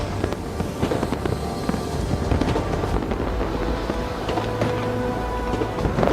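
Fireworks bursting at the Expo 2017 opening celebration in Astana, a dense, continuous crackle and rumble of overlapping pops heard outdoors with no clear pauses, loud and steady throughout.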